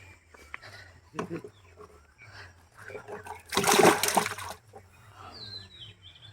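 Water and fish poured out while a pond is drained, a short splash and then a longer rushing gush of water, with people talking nearby throughout.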